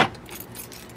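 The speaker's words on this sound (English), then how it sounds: "Here are the keys." Car keys jangle as a door is being locked, a quick bright metallic rattle at the very start that fades fast into quiet background, close and alone.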